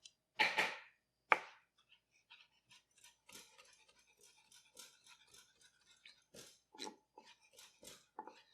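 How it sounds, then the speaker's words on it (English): Kitchen knife mincing garlic cloves on a cutting board, two loud opening chops followed by quieter, rapid irregular taps and a few firmer strikes, close and alone. "we're just going to mince our garlic"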